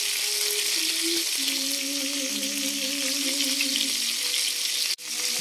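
Galunggong fish frying in a pan, a steady broadband sizzle with faint tonal squeals running throughout, close and even, briefly cut by a sharp clack near the end.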